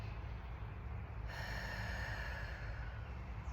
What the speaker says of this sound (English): So we're going to do a big inhale.